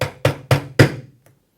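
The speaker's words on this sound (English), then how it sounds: "taking your hammer and using the rubber part of the hammer, just tap it down" A rubber-headed hammer taps a furniture leg into place on a kitchen pan drawer unit: four dull, close knocks in quick succession, followed by a faint fifth tap.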